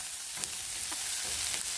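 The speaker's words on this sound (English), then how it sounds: "throw the onions in, saute it up" Onions sauté in hot oil in a pan, a steady soft sizzle with a few light stirring scrapes, close and without talk.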